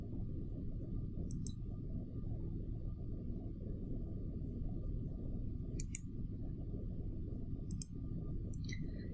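Several crisp computer mouse clicks come in small pairs and clusters, spaced seconds apart during CATIA drawing work, faint but distinct over a steady low hum.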